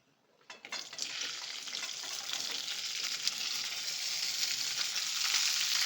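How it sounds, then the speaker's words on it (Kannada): Okra tossed into a few spoonfuls of hot oil in a pan bursts into sizzling after a brief quiet start, then settles into a steady, close, rising hiss of frying. "ಬೆಂಡೆಕಾಯಿ ಫ್ರೈ ಮಾಡ್ಕೊಳ್ಳೋಣ"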